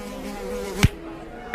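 A housefly buzzes close by in a steady drone, broken near the end by two sharp slaps or thumps.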